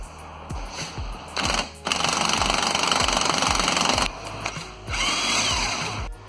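Impact wrench removing the bottom bolt of a 2006 Ford Fiesta rear shock absorber, loud rattling hammer bursts in several runs, one long sustained burst in the middle and shorter ones before and after.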